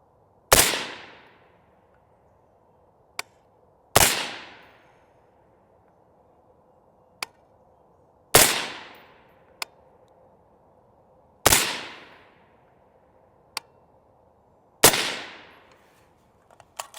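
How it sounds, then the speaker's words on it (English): A 5.56 rifle fires AAC 55 grain full metal jacket rounds: five loud, sharp shots spaced a few seconds apart, each trailing a short echo, with faint clicks between them. "AAC 55 grain full metal jackets"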